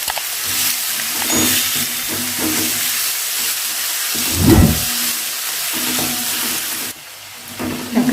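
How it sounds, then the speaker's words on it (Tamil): Chopped tomatoes frying in a pan for a Tamil cauliflower stir-fry, with a steady sizzle and hiss, scattered scrapes and stirring knocks, and a louder clatter about midway, with no one speaking. "சேர்த்துட்டு நல்லா கிண்டி விட்டுக்கலாம்."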